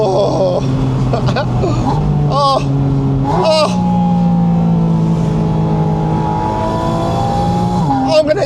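Porsche Spyder RS being driven in the rain, its engine rising through several gears with clear upshifts and revs building and dropping, loud and close from inside the car.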